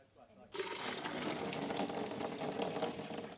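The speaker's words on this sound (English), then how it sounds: "The sap is dripping through this plastic tubing from the trees during the day" Maple sap flowing through plastic tubing from tapped trees, a continuous watery rush that starts abruptly and stays steady and close, with someone talking over it.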